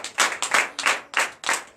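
A church congregation at a Sunday service in Bénin claps in a rhythmic pattern, loud close bursts of hand clapping in quick groups with short gaps between them.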